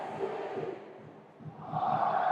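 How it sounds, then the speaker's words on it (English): Home crowd at a Seattle Sounders at Sporting Kansas City MLS soccer match in 2015, a broad distant roar that dips briefly and then swells louder toward the end. "Home crowd rising up to try and cheer on their team"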